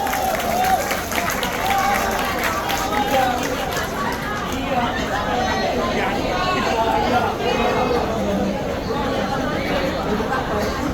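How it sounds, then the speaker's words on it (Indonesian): A large crowd claps steadily at an outdoor rally gathering of Pontianak residents, dense continuous applause with background chatter, sustained and fairly loud throughout. "Kita tepuk tangan dulu untuk kakaknya."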